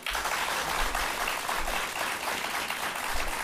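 Loud, sustained applause from a crowd of health sciences university students, many hands clapping together in a thick, continuous roar with no pauses.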